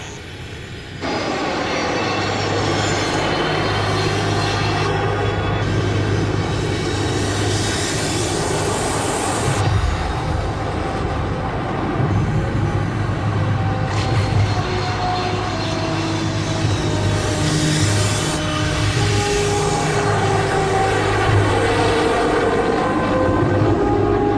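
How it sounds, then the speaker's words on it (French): An airliner in a disaster film takes off from runway 17, its engines roaring steadily and loudly for the whole stretch with a sustained low drone and a rushing high hiss. "Vol Comtech 108, autorisé au décollage en piste 17."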